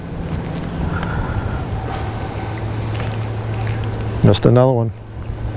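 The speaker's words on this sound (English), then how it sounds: "the wind's a little bit tougher over on that side right now" Steady wind rushes and buffets the microphone outdoors during fishing from a boat, with a low engine-like rumble beneath, and someone speaks briefly near the end.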